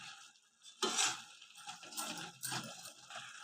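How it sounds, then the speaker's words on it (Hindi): Spoon scraping and stirring a sweet mixture of fresh grated coconut in a pan, with a sharp clink near the start, then soft repeated scrapes and light sizzling, close and fairly quiet, no voices. "इस तरीके से चलाते हुए मिक्स करना है, फटाफट से मिक्स हो जाती है।"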